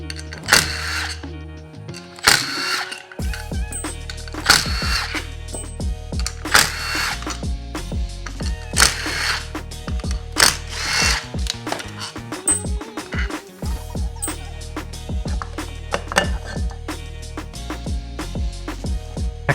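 An 8mm socket ratchet clicks rapidly and steadily while bolts come off the factory clutch cover of a YFZ450R quad during a Rekluse Radius CX clutch install, with tool and metal handling noises mixed in close to the microphone.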